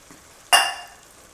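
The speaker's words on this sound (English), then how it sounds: "Put a little Rotel in." Rotel tomatoes are tipped into a hot chili pot, giving one sudden sharp sizzle that swells and then slowly fades, close and loud with no talking.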